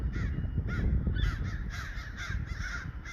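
Crows caw repeatedly in the distance around 4:30 outdoors, a steady series of harsh rhythmic calls over a low rumbling background, with no talking.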